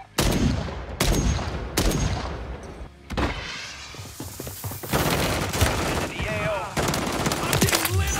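Call of Duty gunfire in rapid, loud bursts of automatic fire that repeat through the clip, with some booming impacts, under game noise and occasional voices.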